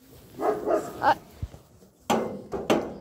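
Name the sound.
dog barking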